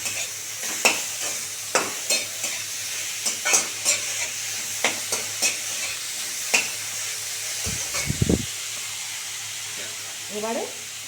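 Grated papaya stirred in a hot pan for wedding-style plastic chutney: repeated scraping strokes of a spatula over a soft steady sizzle, with a brief louder clatter near the end.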